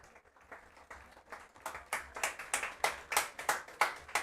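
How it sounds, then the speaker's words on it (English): Applause from a high school football crowd at Armstrong High School before kickoff, starting faint and building into rhythmic clapping that grows louder, heard from within the stands. "Applause from the crowd"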